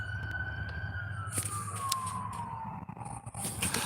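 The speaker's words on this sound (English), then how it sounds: "Fire truck." A fire truck siren sounds from afar in one long downward wail, faint under traffic noise and scattered clicks.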